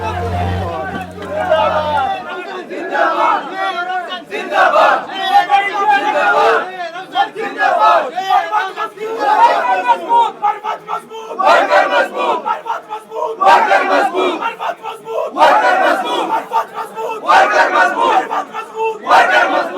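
A crowd of party workers chants political slogans in rhythmic, call-and-response bursts at an office after Sher Afzal Khan Marwat's release from jail, loud and close, rising and falling in repeated waves for twenty seconds.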